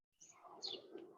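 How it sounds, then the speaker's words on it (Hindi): Birds chirp outdoors in a brief, faint burst of small high calls with a short sharp note at the very end, and the surroundings are otherwise quiet. "चिड़ियों की आवाज आ रही है यहाँ पर।"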